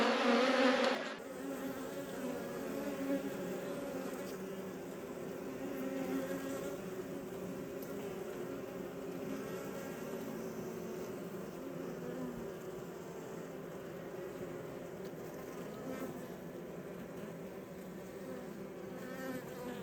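A dense, steady drone of many honeybees buzzing close by, continuous and unbroken for the whole stretch, with a brief louder rustle at the start.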